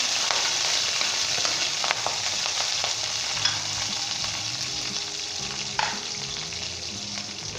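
Basil leaves stirred in a hot frying pan with kidney beans, a continuous close sizzle broken by a few scraping stirs and light clinks of the utensil, no talking.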